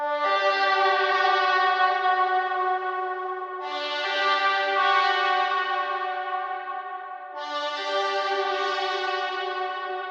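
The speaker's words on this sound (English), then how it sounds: "you can easily cycle through different sounds for that reverb layer." Synth-like tonal chords ring out in three successive swells, each decaying into a long reverb tail as the reverb texture changes between them, loud and clear with no voices.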